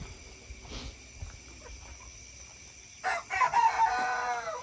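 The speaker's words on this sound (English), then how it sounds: "I just heard a new rooster crowing over there." After a stretch of quiet farmyard sounds near the poultry coops and a brief cluck, a rooster crows once, clear and moderately close, its call rising then trailing off.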